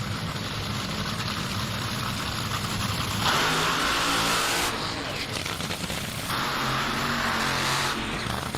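At an NHRA drag race in Bristol, a Top Fuel dragster's engine roars and revs in a loud, dense burst that swells and eases, with a commentator talking over it.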